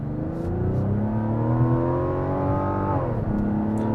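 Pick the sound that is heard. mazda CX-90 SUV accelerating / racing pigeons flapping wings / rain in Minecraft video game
mazda CX-90 SUV accelerating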